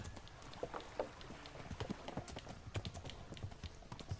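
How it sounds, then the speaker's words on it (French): Horses gallop in Kingdom Come: Deliverance as a faint, rapid, uneven clatter of hooves, distant and steady throughout, with no voices. "j'entends des... les chevals galoper derrière moi"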